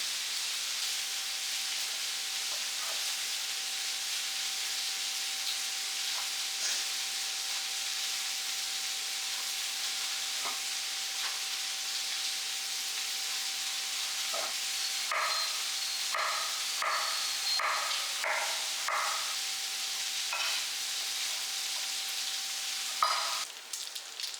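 Bacon sizzles in a pot as its fat renders out: a steady, close hiss and crackle that runs throughout, with a run of light clinks and stirring taps in the latter half.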